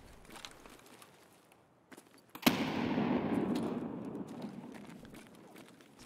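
One grenade detonates in Escape From Tarkov as a sudden sharp blast, followed by a rolling rumble that fades over about two seconds, after a quiet stretch of faint movement sounds.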